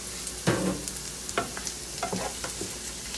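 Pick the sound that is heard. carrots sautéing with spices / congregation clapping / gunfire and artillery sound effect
carrots sautéing with spices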